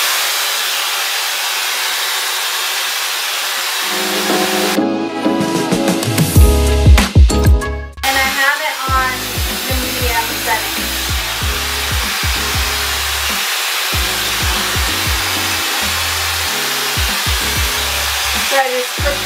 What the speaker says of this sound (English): So, I got the basic Shark hairdryer.